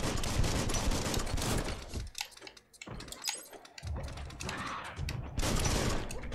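A gun reloading in the video game Biomutant: dense clattering mechanical clicks and ratcheting bursts, loud and close, with a brief lull midway before the busy racket resumes.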